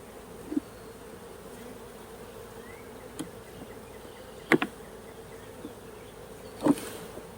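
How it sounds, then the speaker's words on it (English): Honey bees in a hive box hum in a low, continuous drone, with a few sharp knocks and clicks from handling the frames standing out over the buzzing. "Oh yeah, there's lots of bees in there."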